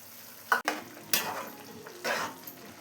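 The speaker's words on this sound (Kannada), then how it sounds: "ಹುರಿದಿರೋ ಶಾವಿಗೆ ಆ್ಯಡ್ ಮಾಡ್ಕೊಳ್ಳೋಣ." Roasted vermicelli tipped into a pot of boiled vegetables and stirred, giving a few short scraping and rustling bursts with a faint hiss, close by and without talk.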